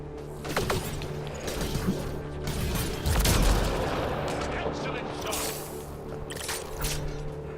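Sniper rifle fire in Mass Effect: Andromeda, with sharp loud cracks and a heavy boom near the middle over a dense layer of game noise, and a voice speaking faintly underneath.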